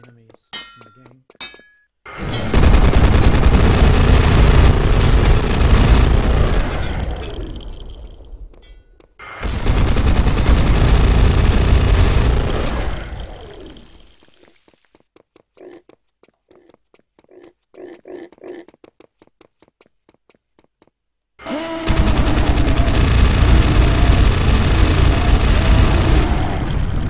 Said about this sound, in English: you can use the minigun and the grenade launcher together